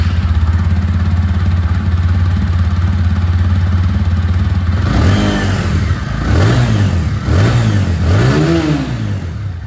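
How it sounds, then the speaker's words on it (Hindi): A 2025 TVS Apache RTR 160 2V motorcycle with dual ABS idles with a steady low exhaust burble, then is revved repeatedly in rising and falling blips, loud and close, with no talk. "तो ये दोस्तों एग्जॉस्ट साउंड आप लोगों ने सुन लिया।"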